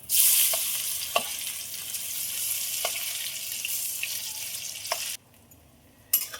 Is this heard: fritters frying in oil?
yes